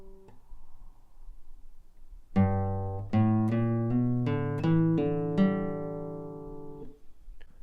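An easy country lick on guitar: a short run of clearly plucked notes, each attack ringing into the next, played alone with a steady, close tone before the final note fades.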